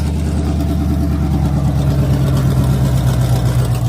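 A C4 Corvette engine with muffler deletes runs through a newly built DIY exhaust mid pipe, producing a loud, steady, deep idle rumble close by that holds throughout without talk.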